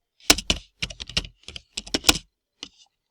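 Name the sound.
typing a job search on a computer keyboard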